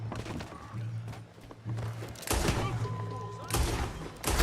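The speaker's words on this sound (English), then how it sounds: "I'll shoot someone." Gunfire from the Red Dead Redemption 2 video game: broadband bursts of shots over a low steady game hum, with louder volleys near the middle and end, mixed with ambient in-game activity.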